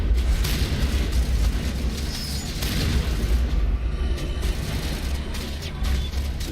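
A grenade fired and exploding in the Mass Effect video game, a loud sustained rumbling boom with bursts of debris and crackle layered through the blast, dense and close throughout.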